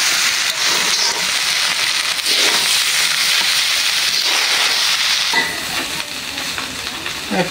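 Rice grains being dry-fried and stirred in a pan for khichuri give a steady, loud sizzling hiss with scraping stir strokes, easing slightly toward the end, with no voices.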